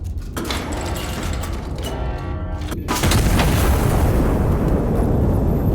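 A massive artillery gun fires in the video game Iron Nest: a deep, loud boom lands around the three-second mark and gives way to a sustained heavy rumble, with mechanical clanking and whirring beforehand and no talk.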